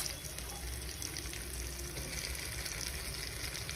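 Potatoes sizzle and fry in a pan for poha, a soft, continuous crackle that is close but fairly quiet, with no talking.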